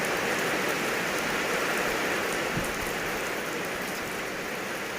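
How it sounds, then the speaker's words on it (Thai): Rain falls steadily in a broad, even hiss, with faint drips and no talking. "ฝนตกมาใส่แล้วค่ะ"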